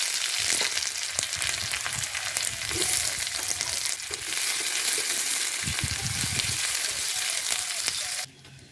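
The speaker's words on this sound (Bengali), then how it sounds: "তেল গরম হয়ে গেছে, দিয়ে দেবো কালো জিরে, শুকনো লঙ্কা, দিয়ে দেবো পেঁয়াজ কুচি" Nigella seeds, dry red chillies and chopped onion fry in hot oil with a loud, dense, continuous sizzle and occasional stirring, close up, cutting off abruptly at the end.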